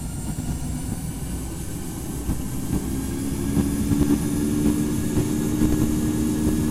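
Boeing 777-300ER jet engines spooling up for takeoff in the flight simulator Infinite Flight, a steady low roar with a high whine that grows slightly louder over several seconds, with no talk.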